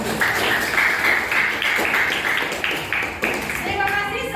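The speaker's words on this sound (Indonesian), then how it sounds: "Tepuk tangan lagi." A classroom of eighth-grade students claps together, a dense patter of hand claps sustained for several seconds, with children's voices chattering over it.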